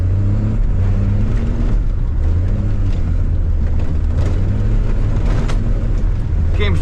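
A first-generation Cummins diesel truck drives hard with its tires spinning: a steady, loud engine drone with throaty low harmonics rising and falling as it revs, and people talking over it.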